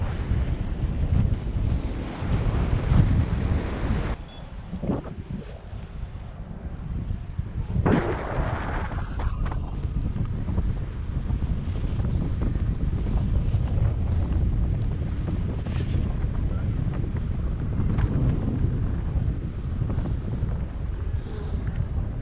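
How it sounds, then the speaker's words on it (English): Wind buffeting the microphone while paragliding over the Huacachina sand dunes, a loud continuous rushing roar with gusty swells and no talk. "It's because the wind is soft."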